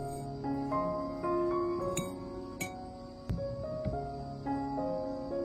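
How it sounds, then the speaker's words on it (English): Light clinks of a spoon tapping a glass cup as rice is spooned in, sounding several times, spaced unevenly, over soft background music. "take 3 spoons of rice and put it in a glass cup"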